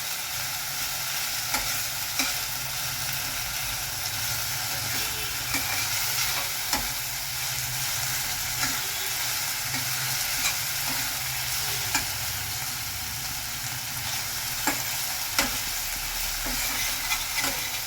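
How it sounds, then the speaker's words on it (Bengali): A spice paste of green chilli and half a tomato is stir-fried in a karahi. A steady, close hiss of sizzling runs throughout, with occasional soft scrapes and clicks from stirring. "পেস্টটা দিয়ে সেই মশলাটাও কষাচ্ছি"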